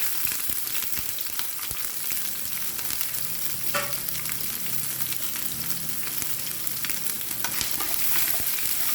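Ginger, garlic and green chilli fry in hot oil with a steady, close sizzle and crackle that holds for the whole stretch, broken now and then by faint stirring scrapes.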